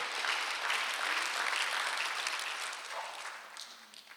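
A church congregation at a Sunday service claps in a sustained, even patter that fades slightly toward the end, fairly faint and without speech over it.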